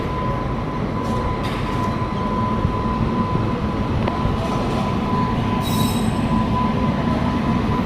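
Passenger train on the Nallapadu branch line near Guntur rolls past close by with a continuous loud rumble, a steady high wheel squeal and a brief sharp screech near the end.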